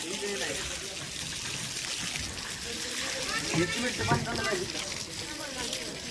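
Water gushes and splashes from a burst pipe at a cement construction site, a continuous trickling flow with sloshing that rises slightly midway, while people talk over it.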